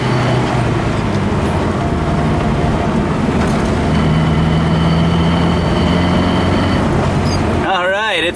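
A wood gas truck engine running on firewood hums steadily and loudly while cruising, with road and cabin rumble throughout and a few tonal whines partway.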